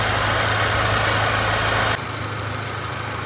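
A 2023 Chevrolet Colorado ZR2 truck engine idles with a steady low rumble, close and constant, then cuts off partway through, leaving quieter background noise.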